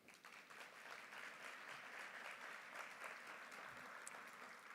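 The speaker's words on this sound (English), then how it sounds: "Let's give Wyatt and Gracie another kind of applause, please" An audience at a live community event with a county color guard gives sustained applause, a steady, fairly faint wash of many hands clapping that holds evenly throughout.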